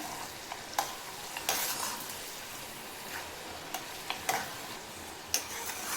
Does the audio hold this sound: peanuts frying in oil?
yes